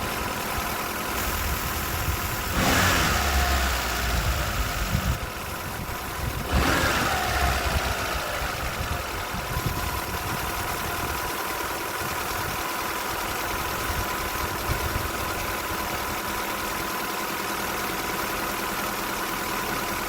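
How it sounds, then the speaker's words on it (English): A restored car engine with freshly added oil runs at a steady idle, a continuous close mechanical hum with a faint light ticking underneath and a couple of brief louder bursts early on, with no talk. "you can tell me if the engine sounds ticky before this new oil gets circulated around."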